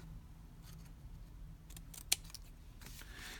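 Scissors trim excess paper from an envelope flap, giving one sharp, close snip against a quiet room background.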